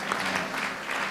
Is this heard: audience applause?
yes